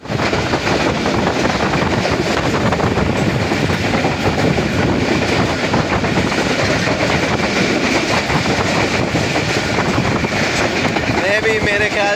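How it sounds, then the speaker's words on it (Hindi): A passenger train runs from Gujrat toward Karachi near Bin Qasim, a loud continuous rumble with rhythmic clickety-clack of the wheels and wind buffeting, heard from on board throughout. "ये हमारी जो ट्रेन है अभी बिन कासिम के करीब पहुंच चुकी है"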